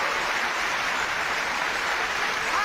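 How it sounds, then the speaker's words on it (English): A studio audience applauds at a live paranormal television show, a dense, steady wash of clapping that holds at an even level throughout with no voices over it. "Give a round of applause."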